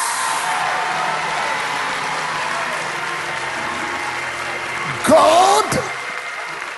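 A church congregation claps and shouts together, a steady wash of applause with one voice calling out over a louder burst of cheering near the end.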